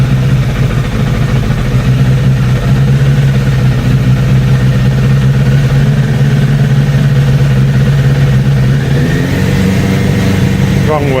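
A Suzuki Bandit 600 motorcycle engine runs at a steady, loud idle with a deep, even rumble, close up throughout, and a slight rise in pitch near the end.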